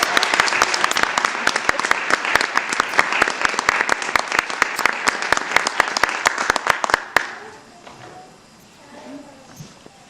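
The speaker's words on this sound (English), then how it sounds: "Let's show our appreciation with a round of applause" An audience claps for models at a fashion show, steady sharp hand claps in a quick regular rhythm for about seven seconds, then stopping abruptly into quiet room noise.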